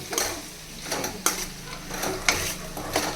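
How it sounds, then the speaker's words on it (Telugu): Chicken sizzles in a pan while being stirred, a steady frying hiss punctuated by four or five spoon scrapes against metal at roughly one-second intervals, close and clear with no speech. "ఇప్పుడు ఈ చికెన్ని మంచిగా కలుపుకోవాలి"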